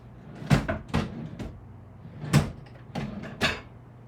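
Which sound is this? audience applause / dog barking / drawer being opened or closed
drawer being opened or closed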